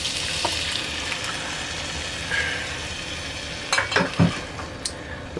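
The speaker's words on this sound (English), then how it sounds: "Listen to that simmer, simmer." Homemade spaghetti sauce simmers in a pot with a soft, bubbling crackle, and a few louder stirring knocks and scrapes come near the end.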